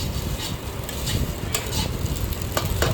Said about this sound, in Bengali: এই সব পরিমাণগুলোকে একসাথে ভালোভাবে মিক্সড করে ভাজা ভাজা করতে হবে